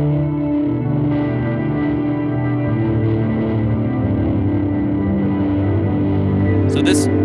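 A Fender modulated plate-style reverb pedal rings out a sustained, wavering wash with a very long decay, dense and steady throughout, with a brief brighter flick near the end.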